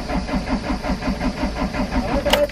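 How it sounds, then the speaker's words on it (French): A hot car engine on a 36-degree day cranks repeatedly in a steady rhythmic churning of the starter, close and loud, with a brief sharp clatter near the end, no voices. "les essais de démarrage"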